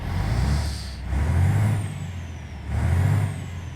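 DAF 95 ATi truck in the Euro Truck Simulator 2 game, heard from the cab window: a low diesel engine rumble that swells and eases in waves, with hissy air-brake-like bursts over it, fairly close and with no talking.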